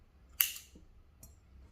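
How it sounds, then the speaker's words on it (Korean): Scissors cut crochet yarn from a phone bag with a single quiet, crisp snip, followed a moment later by a fainter click in an otherwise hushed room. "실을 한 15cm 정도 남기고 잘라주세요."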